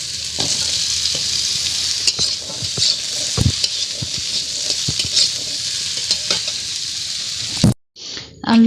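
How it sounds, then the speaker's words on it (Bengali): Potatoes fry in hot mustard oil in a wok, giving a loud, steady sizzle broken by repeated scraping stir strokes close by, until the frying cuts off abruptly near the end. "এবার আলুগুলোকে আমি ভেজে নেব লাল লাল করে।"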